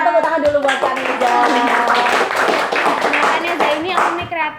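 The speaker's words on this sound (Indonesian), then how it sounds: "Tepuk tangan dulu buat Kak Neza." A room full of people claps in lively applause to welcome a guest onto a talk show, a dense, close patter of hands with voices cheering over it.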